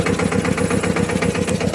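A diesel tractor engine idles close by with a steady, rapid chugging pulse that holds an even rhythm from start to finish, and no one speaks.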